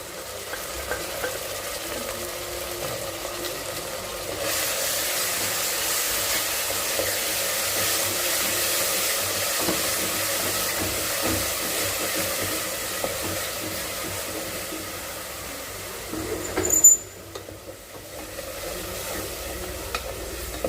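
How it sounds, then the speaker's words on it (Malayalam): Ground coriander leaves, mint and green chilli paste sauté in a pan for a rice dish, a continuous close hiss and sizzle with occasional stirring scrapes and one brief sharp clink near the end, no voices. "മാറി കിട്ടുന്നിടം വരെ നമുക്ക് വഴറ്റി കൊടുക്കാം"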